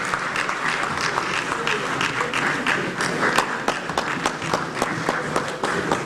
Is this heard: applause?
yes